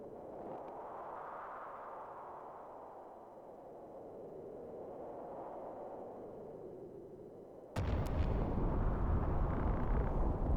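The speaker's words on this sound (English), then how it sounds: "What was that? An explosion?" In the Final Fantasy Tactics video game, a low, swelling rumble gives way to a sudden loud explosion near the end, which turns into a sustained, dense roar.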